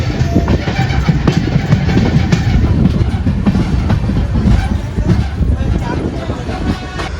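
The Amaravati Express, Vasco-da-Gama to Shalimar, rolls slowly into Londa Junction station with a loud steady rumble and repeated wheel clacks over rail joints, and someone talks over the noise.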